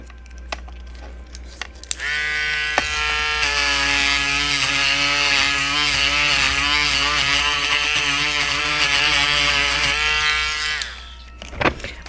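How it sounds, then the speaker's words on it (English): A Dremel rotary tool carves a Blythe doll face plate, its high, steady whine holding for about ten seconds at close range, rising in pitch at the start and then winding down near the end. "This is probably one of my most used Dremel heads, honestly"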